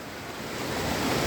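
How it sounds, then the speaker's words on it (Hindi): Steady broadband roar of a waterfall along the Vaishno Devi pilgrimage route in the mountains, dense, continuous rushing water close by with no voices. "आप जैसे कि देख सकते हैं वहाँ पे वाटरफॉल आपको दिख रहा होगा।"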